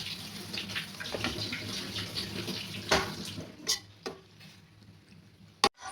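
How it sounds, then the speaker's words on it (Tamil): A cup of water splashes into a pan of carrot halwa being cooked with milk, a short pour followed by a few sharp clinks and taps near the end. "ஒரு கப் தண்ணி ஆட் பண்ணிவிட்டு நல்லா மிக்ஸ் பண்ணணும்"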